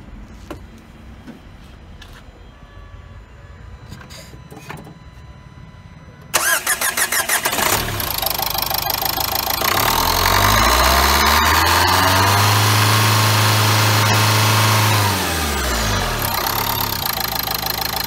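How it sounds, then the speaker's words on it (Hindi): A 2017 Nissan Terrano XV Premium dCi diesel engine cranks and fires after a quiet stretch, then settles into a loud, steady diesel idle with a slight knock, close up and with no voices. "ये डीजल इंजन देख रहे हैं आप।"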